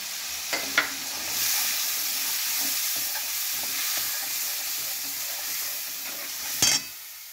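Green chili paste hits poppy seeds already frying in a pan, setting off a steady soft sizzle with a few sharp clatters of stirring near the start and end.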